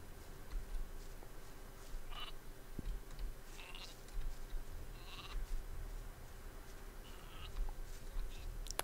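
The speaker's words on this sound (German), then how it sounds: "Aber das ist ja nur ein Schaf." Sheep in the video game Gothic 2 give several short, scattered bleats over a steady, faint ambient hum, with no talking.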